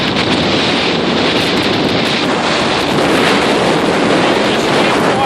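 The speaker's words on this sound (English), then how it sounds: "look how rough that is. Wind like this, you don't stop." Strong gusting wind roars across the microphone at a lakeside pier, with rough waves crashing and surf churning steadily underneath, loud and continuous with no talk.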